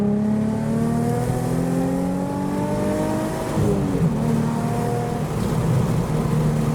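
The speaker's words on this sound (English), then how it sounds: "It definitely feels like a drive-by car show." Cars drive by at a roadside car show on the way back from Goodwood, a loud engine droning and rising in pitch before easing down as one passes and another rumbles in behind, close and with no talk.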